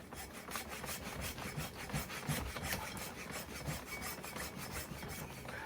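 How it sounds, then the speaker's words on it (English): A hacksaw cuts back and forth through a frozen deer neck in steady, rhythmic rasping strokes, moderately loud and close, with no voices. "I'm having a heck of a time even just getting the rest of the neck off with the hacksaw"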